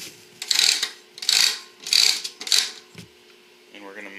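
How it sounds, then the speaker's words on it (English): Kerosene heater wick mechanism being cranked up by hand, four rhythmic bursts of ratcheting clicks about half a second apart, close and crisp, followed by a brief clunk and a faint voice. "But I'm going to crank up the wick."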